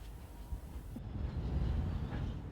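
A 4,000-ton freight train of iron ore wagons rolls past on an internal rail system, a faint distant low rumble of wheels that holds steady and swells slightly.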